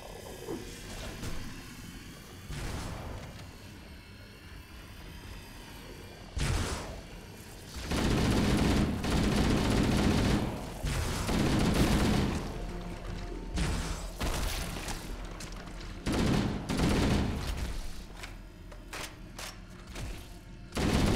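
Plasma pistol shots in Halo: Combat Evolved, sporadic bursts of firing broken by quieter stretches of ambient game noise, with busier volleys in the middle.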